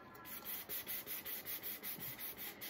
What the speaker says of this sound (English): I'm gonna go ahead and just give this a sand all the way around.